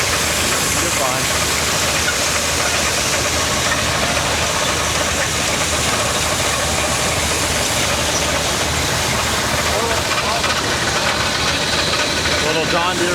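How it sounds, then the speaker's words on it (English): A John Deere 112 garden tractor drives a corn auger through its PTO at an outdoor antique farm machinery show, a steady, loud continuous engine drone and mechanical churn with a voice speaking over it. "Little John Deere 112 with a PTO attachment. Running the auger."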